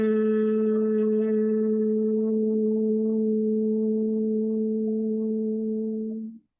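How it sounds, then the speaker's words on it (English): A single sustained hum held steadily for about six seconds as part of a guided meditation, clear and alone, with a strong steady tone that fades out at the end. "I would like you to start humming"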